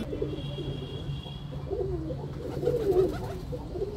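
Racing pigeons, tired after landing from a race, coo softly and repeatedly at close range over a low steady background hum, with no talking.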